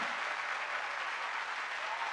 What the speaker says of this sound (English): You clap for a really long time, don't you?